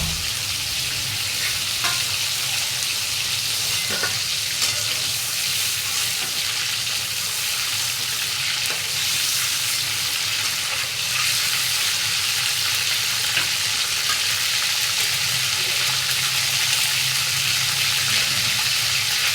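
Prawns frying lightly in hot oil, a loud, even crackling sizzle close to the pan that holds steady the whole time, with faint occasional clinks and no speech.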